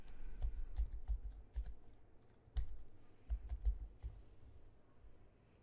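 Someone types a password on a computer keyboard, a quick run of soft, close key taps with a few short pauses.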